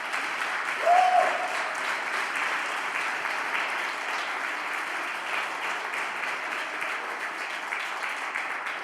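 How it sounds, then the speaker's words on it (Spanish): Applause from a church conference audience, a broad steady wash of many hands clapping that carries on evenly for the whole stretch, with a brief higher tone near the start. "Dale un fuerte aplauso al Señor"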